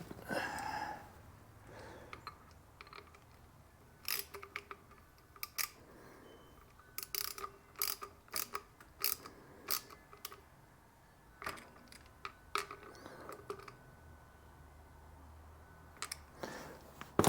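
A hand ratchet wrench turns a bolt on a 1976 Corvette differential, giving quiet irregular bursts of sharp clicking ticks with pauses between them, close up, with no talking.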